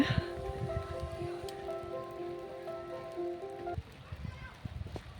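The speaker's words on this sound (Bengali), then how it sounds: "পাইনের বনে বৃষ্টি শুরু হলো এই সাউন্ডটা শুনতে এত ভালো লাগছে" Rain falls in a pine forest along a hillside road near Lava, a soft wash of patter under a voice, with a steady tonal hum fading out partway through.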